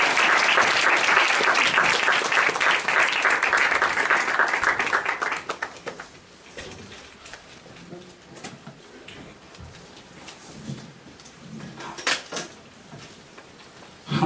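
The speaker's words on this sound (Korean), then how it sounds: "교수님 박수로 맞이하겠습니다" A hall full of worshippers at a university church service claps steadily to welcome a law professor, a loud dense patter that fades after about five seconds into quiet room noise with scattered faint sounds.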